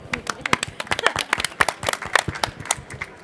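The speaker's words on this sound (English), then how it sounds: "a round of applause for being honest" Scattered, uneven clapping from a small audience at a talk, with quick sharp claps near and close together rather than a full ovation.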